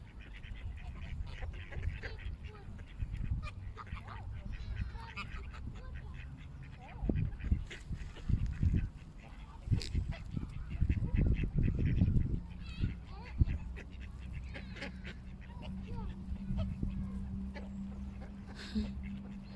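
Ducks and geese quack and honk while being fed bread outdoors on a cold day, their calls bursting in loud clusters near the middle and easing later, with people talking nearby.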